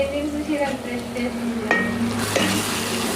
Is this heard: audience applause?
no